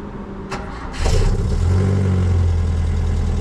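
A 1968 Lancia Flavia engine cranks briefly, then catches and starts right away, settling into a loud, steady rumbling idle close by.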